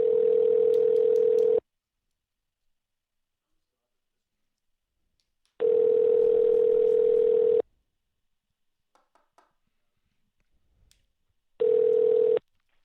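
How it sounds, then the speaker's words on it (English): Placing a telephone call brings a steady electronic tone that sounds in about two-second pulses with long silent gaps between them, loud and clean over a quiet line with a few faint clicks. "I'm going to make one more dial after this."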